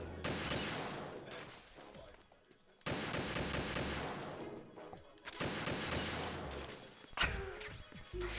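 Gunshots fired at seagulls in Metal Gear Solid 2, three loud sharp blasts spaced a few seconds apart, each trailing off in a long echoing decay, with a brief clatter near the end.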